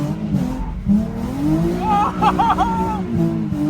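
A car drifts with the handbrake pulled, its engine revving and tires squealing in a rising screech partway through, while excited voices talk over the noise.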